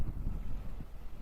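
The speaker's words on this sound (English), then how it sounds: "it's very windy" Wind buffets the microphone in low, uneven rumbling gusts, with no voices.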